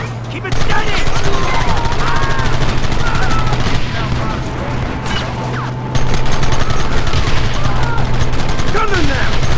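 Gunfire during a battle in the Red Dead Redemption video game: dense volleys of rifle and machine-gun shots rattle steadily throughout, loud and continuous, with shouting voices over the fight.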